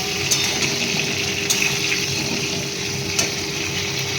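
Cauliflower pieces frying with a little salt in a pan give a steady close sizzle and crackle, with a few sharp spatters standing out above the even hiss.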